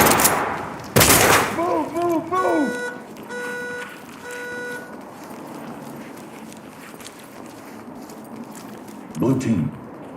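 Shotgun blast in Ready or Not, a single loud boom early on, followed by radio-style voices and tonal game chatter, with a later softer crack near the end.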